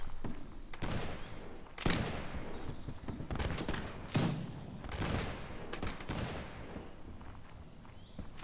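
Cannon and musket fire booms across a Napoleonic-era battlefield in Mount&Blade, several heavy thuds landing amid a constant crackle of distant gunfire and battle noise, fairly loud and continuous with no clear talking.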